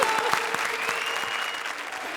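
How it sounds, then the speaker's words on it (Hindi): A studio audience at a comedy show claps in a loud, dense burst of applause that carries through the whole moment, with faint crowd noise underneath. "Once more, जोरदार तालियां कपिल और पार्वती के लिए"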